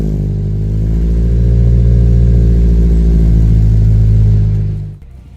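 A Toyota Celica's engine drones loud and steady through its exhaust, rising slightly in a held rev before cutting off abruptly near the end.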